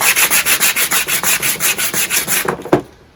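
Coarse 180-grit paper is rubbed by hand over the edges of a Fiat 500 body panel, making quick, regular back-and-forth scrubbing strokes, loud and close, about five per second, ending with a knock and silence.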